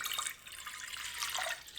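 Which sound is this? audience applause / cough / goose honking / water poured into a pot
water poured into a pot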